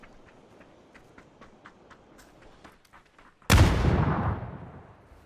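A frag grenade in PUBG goes off as a single loud blast with a long rumbling decay, after a stretch of faint ticking and clicking.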